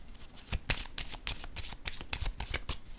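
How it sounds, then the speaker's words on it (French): Tarot cards handled and laid down on a table, a close series of crisp, papery flicks and soft slaps in an irregular rhythm, fairly quiet, with no talking. "je vais déposer une autre carte ici"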